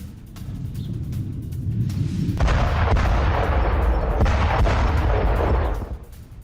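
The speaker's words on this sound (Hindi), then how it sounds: "दक्षिणी लेबनान में बारूदी तबाही मचा के रख दी इजरायल ने" Explosions and gunfire from Israeli strikes in southern Lebanon rumble and crack, starting with scattered sharper reports before a heavy, sustained blast of booming fire swells and lingers, then fades out.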